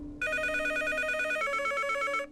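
A telephone rings in the Nancy Drew video game Treasure in the Royal Tower, a steady electronic warbling ring lasting about two seconds, loud and close, with no voices.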